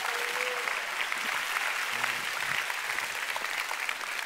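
Steady, dense applause from a church congregation giving the Lord a big hand during a sermon, sustained evenly from start to finish.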